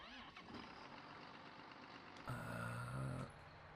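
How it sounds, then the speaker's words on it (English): John Deere tractor engine in Farming Simulator 19 catching and settling into a steady mid-pitched drone, a short, fairly loud burst rising over a background rumble before dropping back after about a second. "we're just going to hop the fence, jump into the John Deere, and away we go"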